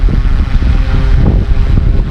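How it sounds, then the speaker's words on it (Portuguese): A FW200 helicopter flies in strong wind, its rotor drone buried under steady, loud wind buffeting across the microphone. "olha o helicóptero voando aí, ó. E tá ventando demais"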